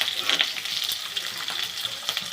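Chopped shallots frying in hot oil with mustard seeds for a Tamil potato fry, a steady close hiss with small crackles and pops throughout, no talking.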